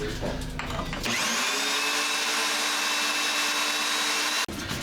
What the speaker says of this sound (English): It's a Milwaukee drill. It's got a really low gearing and a lot of torque.